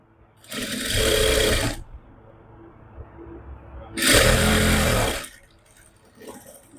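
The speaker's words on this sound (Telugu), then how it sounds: "స్టిచ్ అయితే చేస్తున్నాను." A sewing machine stitches fabric for a kurta sleeve in two loud, close, rapid bursts, each lasting about a second, with quiet in between.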